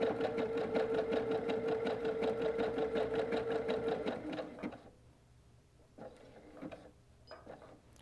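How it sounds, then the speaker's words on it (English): Sewing machine running a zigzag satin stitch for a quilted name tag, a fast steady mechanical chatter for about four seconds, then stopping, followed by a few faint short bursts. "I'm going to start sewing."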